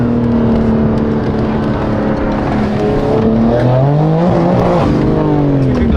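A tuned, high-mileage BMW M4 Competition accelerates hard, its engine note loud and close, climbing through rising revs with a brief dip at a gear change before pulling up again.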